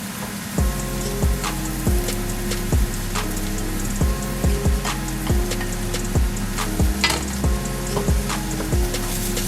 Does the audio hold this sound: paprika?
yes